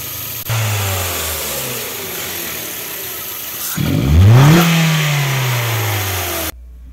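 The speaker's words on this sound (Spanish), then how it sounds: "En nuestro proceso aceleramos el vehículo cada cierta cantidad para que el químico penetre de manera más directa a lo que es toda la admisión." A Hyundai or Kia GDI engine is revved during a chemical intake-cleaning service. Steady idle, then one loud rev that climbs and falls back to idle before cutting off, with no talk.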